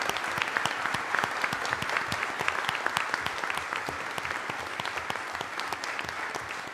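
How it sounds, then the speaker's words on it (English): A small room of people at a board meeting clap together in a round of applause, steady and moderately near, with sharp individual claps standing out, lasting several seconds with no talking over it. "So I'd like to just give Avery a round of applause"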